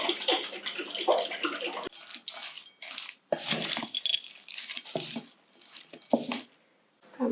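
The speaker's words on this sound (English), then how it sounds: "screw that mason jar lid on and give it a shake" Salad dressing sloshes inside a lidded mason jar during vigorous shaking, in rhythmic bursts of wet rattling and splashing, close up, with brief pauses between shakes.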